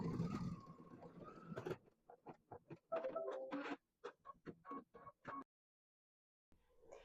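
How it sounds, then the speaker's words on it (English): A home embroidery machine stitches a doorknob outline in dark thread on a quilt block. A noisy start gives way to quick, rhythmic mechanical bursts close by, then a short pause. "I can just go, and it will stitch just that doorknob in my dark color."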